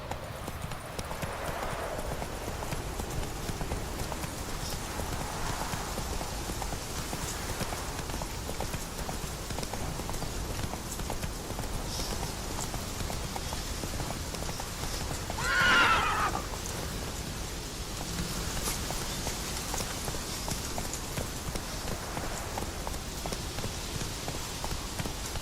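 Roach, a horse in The Witcher 3, gallops with a steady rapid clip-clop of hooves under falling rain, and a loud whinny breaks through midway.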